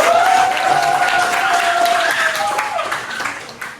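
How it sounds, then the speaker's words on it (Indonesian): Classroom of vocational high school students clapping together, a dense close burst of applause mixed with voices and a sustained tonal whoop over it, gradually thinning out. "Terus jawabannya coba tepuk tangan."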